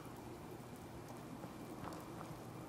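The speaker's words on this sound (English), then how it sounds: "It is raining and pouring." Steady rain in the game Fallout 4 pours continuously, a dense wash of patter with no voices, even and unbroken throughout.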